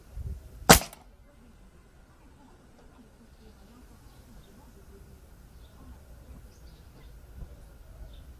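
A single sharp shot from a Black Ops tactical sniper rifle, an RTX Premium Medium, cracks loudly near the start at a shooting range, followed by quiet ambient noise and faint distant sounds.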